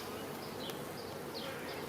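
Honeybees hum around an opened hive in an apiary, a soft, steady drone at low level with no pauses.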